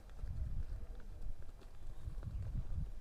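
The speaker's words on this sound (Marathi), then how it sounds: "बघा मित्रांनो पाठीमागं तुम्ही बघू शकता रॉकी निघलाय घरी," A bull walks home across a village bullock-race ground, its hooves clopping faintly and unevenly over a steady outdoor hum, with no clear talk.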